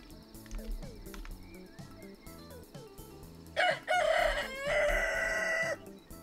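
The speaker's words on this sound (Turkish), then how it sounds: "Abi şu horozun sesi beni ürkütüyor sürekli." A rooster crows loudly partway through, over a looping game-style background tune with small blips and chimes, in the video game Honey, I Joined a Cult.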